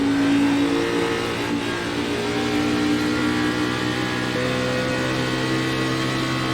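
A NASCAR Xfinity Series race car at Atlanta Motor Speedway in the iRacing simulator roars with a steady, loud engine drone that holds at full power throughout, with no talk.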